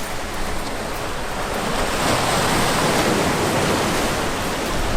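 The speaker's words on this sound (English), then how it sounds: "It is a little bit windy." Wind gusts by the sea in blustery weather, a broad steady roar blended with surf that swells slightly midway, with no voices.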